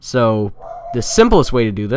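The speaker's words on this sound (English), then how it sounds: "sorry my dog's barking" A dog barks and yelps loudly nearby in a few short harmonic bursts, partly overlapping someone talking close to the microphone.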